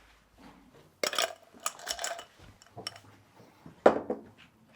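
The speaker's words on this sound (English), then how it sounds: "fill the glass with ice." Ice cubes tumble into a glass in a few loud clattering bursts, clinking and rattling close by with quieter pauses between drops.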